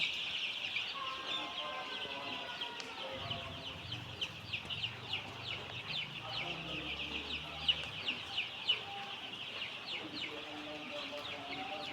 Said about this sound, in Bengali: এখানে 1000 কালার বাট মুরগির বাচ্চা।